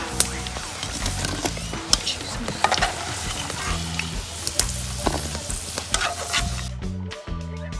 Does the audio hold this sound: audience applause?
no